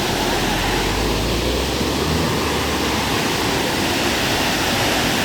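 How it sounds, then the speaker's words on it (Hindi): Catherine Falls near Coonoor in South India, a dense, steady roar of falling water that holds at an even level throughout, heard from a distance. "this is the waterfall"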